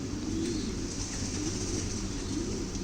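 Pigeons in cages coo in a low, rolling murmur that runs continuously and fairly loud close by, several birds overlapping with no voices heard.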